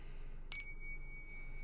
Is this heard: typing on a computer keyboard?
no